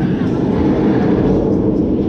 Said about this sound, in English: It's a roaring roller coaster.